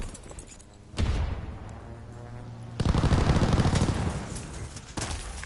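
An aircraft strafing run in Call of Duty rips through with sustained, loud rapid-fire gunfire, a sudden onset followed by a heavier second burst that rumbles on before tapering.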